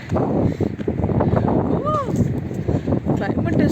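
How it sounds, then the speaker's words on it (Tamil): Heavy wind buffets the microphone with a constant low roar while a person talks over it, in cold weather in Saudi Arabia. "செம காற்று அடிக்குது"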